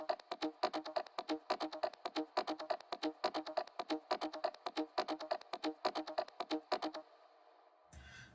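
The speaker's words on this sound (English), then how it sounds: "And then the last bassline support layer sounds like this." A bassline support layer from a dance track, pulsing in quick rhythmic bursts with sidechain-style ducking for about seven seconds, then cutting off to a brief reverb tail before a low thump at the end.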